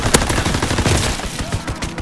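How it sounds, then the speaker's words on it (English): Strafing gunfire from a fighter plane in Call of Duty WWII Domination multiplayer: a dense, loud barrage of rapid shots and explosions that runs without a break for about two seconds. "Fighter pilot inbound,"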